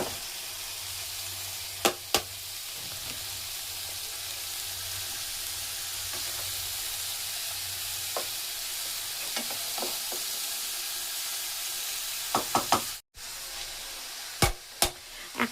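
Thinly sliced cabbage tossed into a pan of spices frying in oil, giving a loud, steady sizzle with a few sharp clinks and stirring scrapes near the end, no voices.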